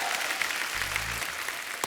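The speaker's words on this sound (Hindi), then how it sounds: "एक बार जोरदार तालियां" Studio audience at a Hindi comedy talk show clapping in a brief, dense burst of applause with a low thud partway through.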